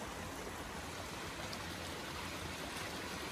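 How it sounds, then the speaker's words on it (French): A small waterfall flows in a steady, faint, continuous rush of falling water that holds even throughout, with no voices or other sounds. "Il y a la cascade."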